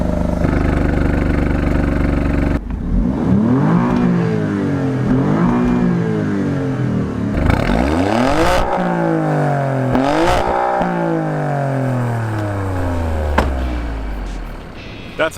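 Alfa Romeo Stelvio Quadrifoglio SUV engine in race mode, revving loudly in repeated rising sweeps that climb and fall, with a steady rumble before the first blip and a final long descending pull, no talking.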